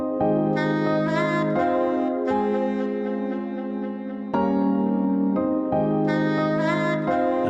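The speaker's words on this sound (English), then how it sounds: "And if I play that along with the piano, the Rhodes, and the pad, then they all sound like this together." Saxophone, piano, Rhodes and a sustained pad play together in a liquid drum and bass arrangement built in Ableton, layered chords swelling and shifting with bright accents, full and close, no drums or voices.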